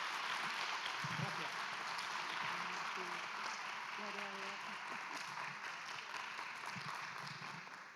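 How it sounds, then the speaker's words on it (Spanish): Audience applause for presenters at a Spanish-language event, a dense, steady wash of many hands clapping that holds for several seconds, with faint voices mixed in underneath. "Le damos un aplauso grande a Martín y a Ausi"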